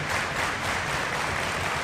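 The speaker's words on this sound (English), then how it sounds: "Listen to this crowd in Newcastle, fired up for the Pro Wrestling World Cup finals." A wrestling crowd in Newcastle at the Pro Wrestling World Cup finals, a dense steady roar of applause and cheering filling the arena throughout.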